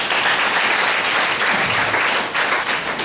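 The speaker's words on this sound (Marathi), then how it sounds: "जोरदार टाळ्या वाजवूया" A crowd at a school programme gives loud, sustained applause, a thick continuous roar of many clapping hands that holds steady for about three seconds.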